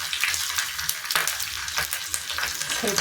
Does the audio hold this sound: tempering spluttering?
yes